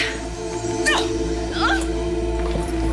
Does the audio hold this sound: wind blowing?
no